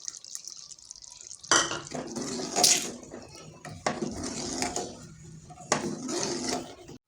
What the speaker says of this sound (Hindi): अब जो ये इमली का मैंने निकाला हुआ था भिगो के पानी, इसको मैं ऐड कर देती हूँ इसमें।